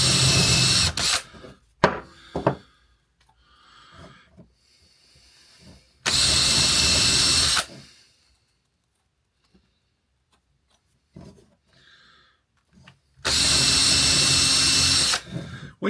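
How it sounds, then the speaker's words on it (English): A power drill bores into wood in three separate bursts, each a loud, close, whining drilling lasting a second or two, with quieter shuffling and handling sounds in the gaps between them. "When you're drilling, make sure you clear the flute."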